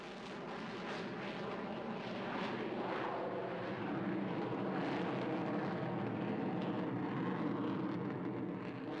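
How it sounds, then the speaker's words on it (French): F-16 fighter jet doing a touch and go on the short runway at Biggin Hill, a steady, broad roar of jet engine at moderate distance that swells slightly and holds throughout. "utilisant la puissance considérable du F-16 pour s'arracher de la courte piste de Biggin Hill."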